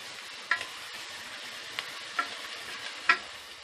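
Rice is stirred with salt in a pot for coconut milk pulao. A faint, steady sizzle runs underneath, and a spoon knocks sharply against the pot four times at irregular intervals.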